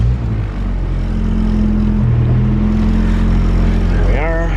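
A turbocharged Honda Civic EG hatch with a B18B engine idles loud and close with a steady low rumble, then the revs sweep sharply upward near the end.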